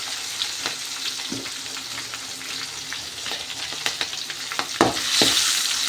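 Onions and green chillies fry in a pan, a steady soft sizzle broken by scattered stirring scrapes and clicks, close by and with no talking.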